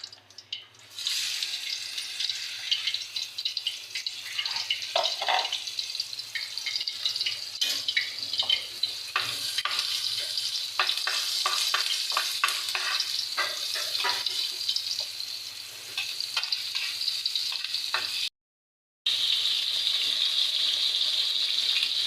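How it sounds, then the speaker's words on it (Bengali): Sliced onions fry in hot oil in a kadai wok, giving a steady, bright, continuous sizzle with crackling pops throughout, close and even, with one brief break near the end. "কড়াইতে পরিমাণ মতো তেল দিয়ে নিছি, এখন দিয়ে দেবো পেঁয়াজ।"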